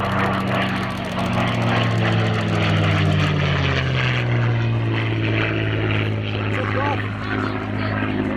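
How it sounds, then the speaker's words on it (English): A P-51 Mustang propeller fighter drones loudly overhead at an airshow, its steady engine roar shifting in pitch as it passes, continuous and close throughout. "the aircraft named Miss Helen will cover the Mustang"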